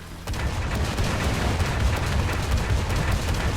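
A KV-2 tank's gun fires in War Thunder gameplay: heavy booming blasts over a continuous low rumble, with loud repeated concussive bursts through the whole stretch and no talking.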